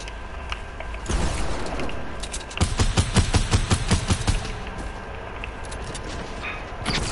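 Video game gunfire erupts in rapid automatic bursts, a dense fusillade of sharp repeated shots clustered mid-clip over a steady background of game noise.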